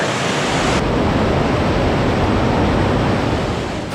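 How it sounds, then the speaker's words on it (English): Water pouring and spraying down inside Partnach Gorge in the Bavarian Alps, a dense, loud, unbroken roar filling the whole space close by, with no voices. "bring a raincoat because it's just pouring rain in here"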